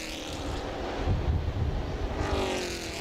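A stock race car at Jennerstown Speedway roars with a steady, broadband engine drone that builds slightly and then holds, heard from trackside at moderate distance.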